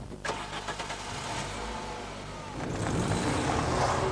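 A Volkswagen Transporter van's petrol engine cranks and catches, then settles into a steady running rumble that grows louder toward the end.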